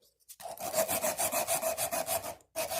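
A wooden ramrod is rubbed with 220 grit sandpaper in quick, rhythmic back-and-forth strokes, a close, dry rasping that pauses briefly before resuming.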